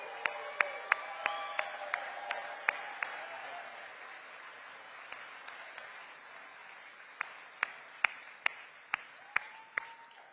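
Rally crowd clapping in a broad, steady wash that fades gradually, with sharp, isolated camera-shutter-like clicks popping out above it at irregular intervals.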